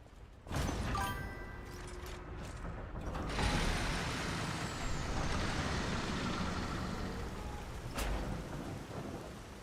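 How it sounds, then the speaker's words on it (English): Heavy rain and rolling thunder in the video game Lies of P form a dense, continuous downpour with deep rumbles and a sharp crack near the end, heard alone without talk. "No, it's raining."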